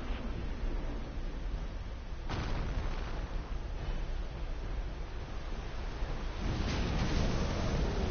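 Fire breath blast from a monster in the Dark Souls 2 game, a sustained roaring rumble with sharp onsets and a swelling burst near the end, heavy and continuous.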